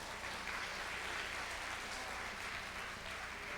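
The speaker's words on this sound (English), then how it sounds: "Please once again give them a well-deserved round of applause." A conference hall audience claps for the session speakers at an international development conference, a dense, even wash of applause sustained at moderate level without a break, heard from within the room.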